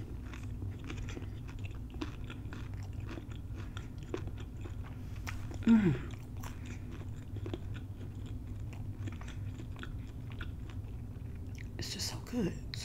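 Crunchy bites and steady chewing of an open-faced cheesesteak, close to the ear, with one louder crunch partway through and soft whispering throughout.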